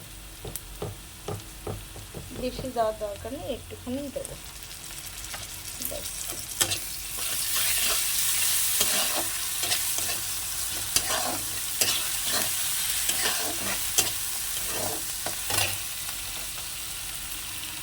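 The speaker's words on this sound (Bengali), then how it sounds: "বন্ধুরা পেঁয়াজটা ভাজা হয়ে গেছে এর মধ্যে দিয়ে দেবো হচ্ছে রসুন বাটাটা" Garlic paste frying with fried onion in a pan, a low crackle and stirring scrapes that grow into a steady, louder sizzle midway, with a voice talking softly early on.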